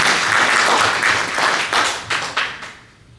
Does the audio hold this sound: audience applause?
yes